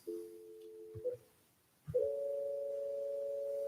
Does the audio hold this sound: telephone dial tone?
yes